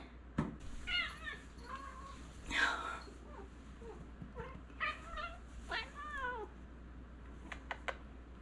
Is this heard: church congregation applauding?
no